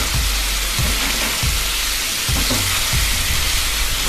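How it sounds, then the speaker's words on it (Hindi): Pointed gourd (parwal) pieces stirred into spices frying in a pan for parwal subzi: a steady loud sizzle with repeated low scraping and knocking strokes of the spoon, no talking. "अब मैं ये डाल दूंगी परवल, मिला दूंगी मसालों में।"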